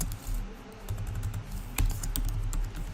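Rapid keystrokes on a computer keyboard while typing React code, steady close clicking with a few louder key hits, no talking.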